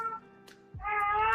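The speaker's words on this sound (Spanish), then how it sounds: "está mi gato armando escándalo" A house cat meows loudly and insistently nearby, two drawn-out harmonic cries with a brief pause between them and no talk over them.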